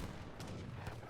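Organ guns fire grapeshot in Age of Empires III, a faint rapid series of muffled shots and thuds within busy battle noise.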